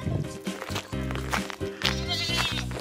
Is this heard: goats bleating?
yes